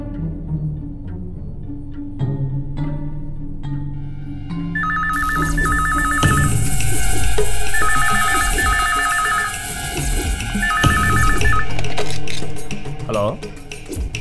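A telephone rings in a Telugu film scene, the electronic ring repeating in three bursts over background music and ambience, with people talking before and during the ringing.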